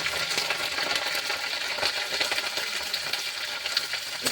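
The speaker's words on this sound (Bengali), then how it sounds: "এটা একটু ভেজে নেব।" Chana dal sizzles and crackles steadily in hot oil with green chilies and curry leaves, a continuous close-up frying hiss with occasional small pops and stirring clinks.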